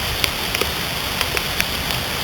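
Steady rain pattering on a creek and the surrounding water during a kayak trip on Howell Creek, a constant close hiss with occasional sharper drip splashes.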